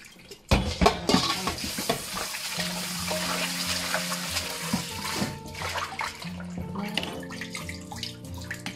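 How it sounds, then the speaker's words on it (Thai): Large pork intestines are washed by hand in a basin of water, with close sloshing, splashing and wet squelching that keeps going through the clip and occasional knocks against the container. "อันนี้นะคะก็ใส่น้ำล้างเลยค่ะ นี่เราก็ล้างสัก4-5น้ำนะคะ"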